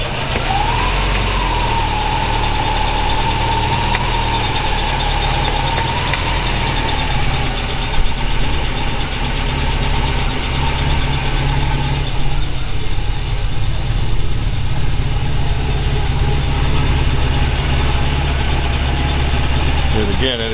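A 1974 Jaguar XKE E-Type roadster, stone cold, idles steadily in a shop, its low engine rumble constant and loud throughout with a faint whine above it.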